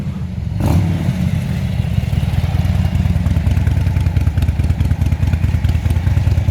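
Harley-Davidson Dyna with a loud aftermarket exhaust rumbles close by, a deep throbbing idle that swells into a steady revving roar and keeps pounding throughout.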